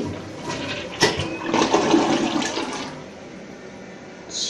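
A Glacier Bay toilet flushes in a burst of rushing water that swells and churns for about two seconds, then drains down to a quieter trickle before a brief hiss of refilling at the end.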